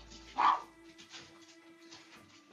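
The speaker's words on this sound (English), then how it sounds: "the dogs are yelling" Dogs bark indoors, one loud close bark near the start and another at the very end, with quieter household noise between.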